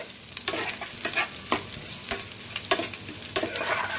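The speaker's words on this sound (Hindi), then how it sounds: "इसको थोड़ा सा सॉटी कर लेंगे" Sliced ginger and garlic sizzle steadily in a hot pan while being stirred for rajma, with a constant close frying hiss and several sharp scraping strokes of a spoon.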